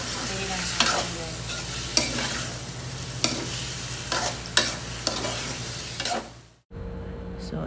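Marinated chicken for afritada sizzles in a hot pan, a dense continuous frying hiss punctuated by sharp spatula scrapes roughly every second, loud and close before the sound cuts off abruptly near the end.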